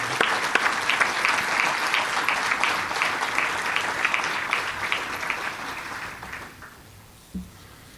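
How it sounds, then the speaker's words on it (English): A banquet crowd at a 2019 women's hockey celebration applauds in tribute: dense, steady clapping that fills the room, then tapers off and fades near the end. "they asked for a round of applause to celebrate their lives"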